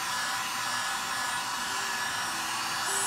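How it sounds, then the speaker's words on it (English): A heat gun warms poured epoxy, blowing a steady, even hiss and whir of hot air close by that holds without a break. "I get my heat gun. I apply a little heat to get it warmed up"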